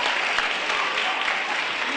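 A crowd at a youth poetry and dance event applauds to vote for a performer, a loud, steady wash of many hands clapping together throughout.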